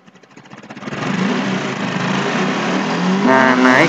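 A Honda Revo FI motorcycle engine builds from a few blips into a loud, steady high-rpm roar held against the rev limiter, pitch rising again near the end as it is pushed harder.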